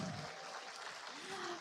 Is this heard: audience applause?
yes